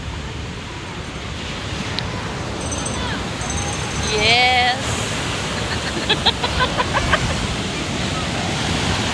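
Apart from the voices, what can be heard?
strong waves crashing on the beach at La Union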